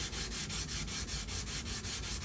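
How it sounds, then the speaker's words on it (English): A custom steel knife blade is hand-sanded toward a mirror finish, working out marks from the previous grit, with steady rhythmic back-and-forth rubbing strokes, close and continuous, at a low level with no talk. "slowly sand them marks out till there's no more marks from the previous grit left"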